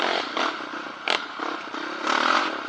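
Honda TRX700XX and Yamaha Raptor 700R ATV engines revving and ripping nearby at a dirt track, loud rasping roar with clattering bursts and rising surges of throttle.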